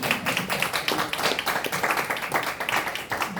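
Dense, steady clapping from an audience at a Korean poetry book talk and author event, a continuous crackle of many hands lasting the whole few seconds at moderate volume.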